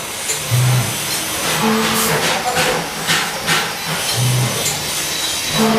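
A fully automatic Pepsi and juice packaging machine runs while material is poured into its hopper, producing a steady hiss with repeating low mechanical pulses at a regular rhythm.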